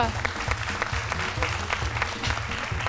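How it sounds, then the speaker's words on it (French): A studio audience applauds steadily on a live Ivorian television midday show, dense clapping filling the whole stretch at a loud, even level without pause. "on va dire bonjour à Kadja Doumbia que je vous demande d'applaudir."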